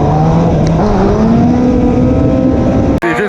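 Superbike engine, 600cc to 1400cc class, revving hard and steadily during a wheelie attempt, pitch climbing slowly before a sudden cut and sharp re-rev at the end, loud and close.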